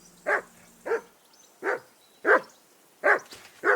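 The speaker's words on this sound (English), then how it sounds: "Jesus, Henry, that barking's driving me nuts! Can you get your dog to shut its beak?" A dog in the medieval video game Kingdom Come Deliverance 2 barks in six short, evenly spaced barks, close and clear, with a faint hum behind.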